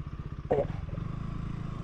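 A KTM Duke motorcycle rumbles downhill on a rough mountain road to a temple, its engine throbbing in a steady low pulse with a brief clatter and scrape over the top.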